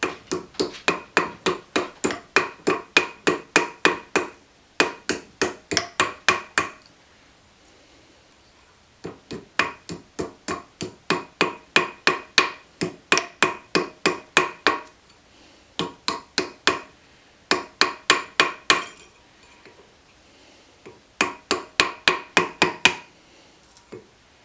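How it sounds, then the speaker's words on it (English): Rawhide mallet tapping a metal ring blank around a ring mandrel in quick bursts of about ten sharp, ringing blows each, separated by short pauses, loud and close with no talk. "Use a rawhide mallet."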